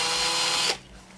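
A handheld power drill spins a tungsten TIG welding electrode while it is ground for sharpening. A loud, high whirring runs steadily and then cuts off abruptly, leaving a low hum.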